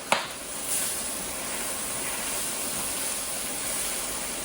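Mushrooms sizzle after being dropped into an oiled pan, giving one sharp clatter at the start. A loud, steady hiss of frying follows and continues without break.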